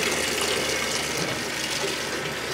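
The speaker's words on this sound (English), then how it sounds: "Let me take a few minutes to get the hot water ready" Hot water from a solar-heated tap gushes in a steady, loud, close rush without pause, broadband and unbroken, with no talking over it.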